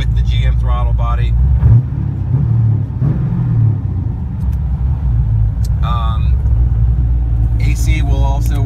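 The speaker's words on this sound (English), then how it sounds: "We started the car with the key just like normal." A car running after a plug-and-play GM LS engine swap with a factory gas pedal and GM throttle body, its loud steady engine rumble close by and continuous, with brief voices heard over it.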